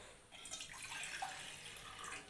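Water runs into a saucepan set on a lit gas stove, ready to boil chow mein, as a faint, steady hiss of pouring liquid.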